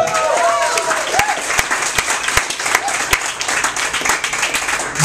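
Stand-up comedy club audience applauding and cheering for a comedian, steady clapping with a few whoops over the crowd noise, fairly close and lively.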